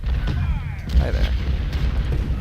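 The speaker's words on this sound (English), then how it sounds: "There's the artillery." Artillery fire in the Civil War strategy game Ultimate General: Civil War, heard as deep, rumbling booms in a dense battle din that continues throughout.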